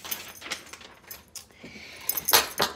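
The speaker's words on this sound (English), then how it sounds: "get these cards shuffled and get them out on the table" Crisp riffling and slapping of tarot cards being shuffled by hand, in short irregular bursts, close and moderately loud with no talking.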